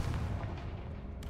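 Confringo blasting spell going off in a video game, one heavy booming explosion with a rumbling decay over about a second.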